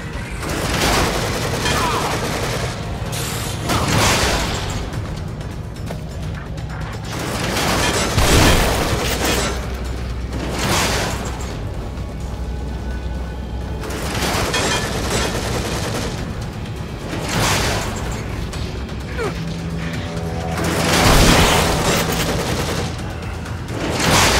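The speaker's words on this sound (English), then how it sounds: "Shotgun." Repeated heavy gunfire from the shotgun and other weapons in The Evil Within, loud booming blasts in bursts over a dense, noisy game mix.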